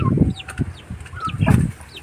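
Small chickens clucking close by, with high thin peeping chirps and a few soft wing flutters mixed in, in short bursts.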